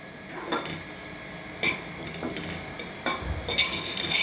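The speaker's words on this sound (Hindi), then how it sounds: "2 से 3 मिनट हम इसको ऐसे हिलाते जाएंगे और भूनते जाएंगे" Mutton frying in a pan with very little ghee is stirred repeatedly, a spoon clinking and scraping against the metal every second or so over a steady low hiss.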